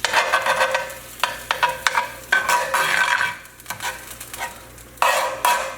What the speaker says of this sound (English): So let's start stirring.